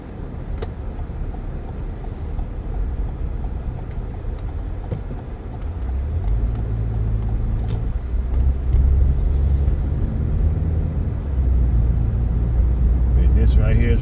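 A car drives along Peachtree Street from Five Points, its engine and tyres giving a steady road rumble that grows heavier as it speeds up, with passing traffic noise around it.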